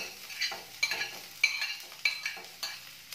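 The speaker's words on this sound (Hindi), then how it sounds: "अब इसमें एक मीडियम साइज का बारीक कटा प्याज डालेंगे" Finely chopped medium onion frying in oil over medium heat, with a soft sizzle under rhythmic stirring strokes of a spoon against the pan, about five scrapes, close and without speech.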